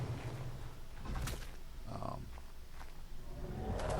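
Terror birds in the Ark video game give soft, low cooing and warbling calls, faint and brief against a steady background rumble.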